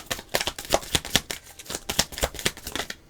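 Tarot cards being shuffled by hand: a quick series of crisp riffling slaps and soft flicks in an uneven rhythm, close and clear, with no talk.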